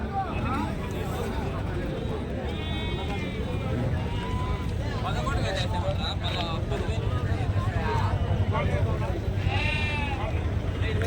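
Several sheep bleat repeatedly amid a busy, noisy outdoor crowd at a livestock market, with people talking in the background throughout.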